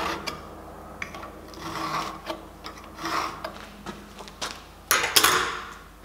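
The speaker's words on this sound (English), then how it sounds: "scribe that in." A vernier caliper point scribes a line across a metal workpiece, giving soft scratchy strokes in short bursts, faint and close, ending in a couple of sharper scrapes.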